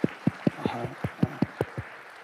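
Applause breaks out in a church service in a series of sharp, distinct claps with a steady rhythm, roughly ten in all, moderately loud and close, with a short shout mixed in.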